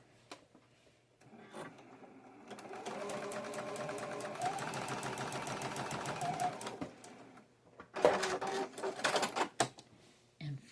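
Sewing machine stitching quilt pieces together, running in a steady fast rhythm for several seconds, pausing briefly, then resuming in shorter bursts; quiet and close with no talk.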